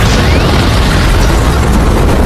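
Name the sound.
explosion in a film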